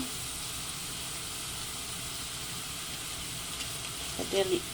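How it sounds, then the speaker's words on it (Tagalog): Garlic sautés in a pan for buttered chicken adobo, giving a steady, even sizzling hiss throughout, with a few brief louder crackles near the end. "Sasateyin muna natin yung bawang."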